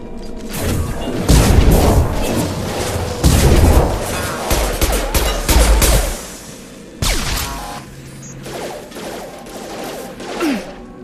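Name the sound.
gunfire in the video game Mass Effect 2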